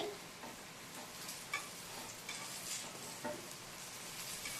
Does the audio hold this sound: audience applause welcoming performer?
no